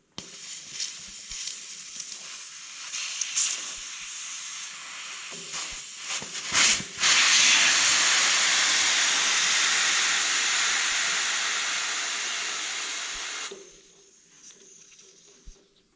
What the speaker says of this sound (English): First of all, remove some air out of the two tires.